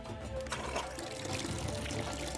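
A tap without a flip-flop restrictor runs water steadily, a continuous broadband splashing rush that stays even and fairly close throughout, with no voices.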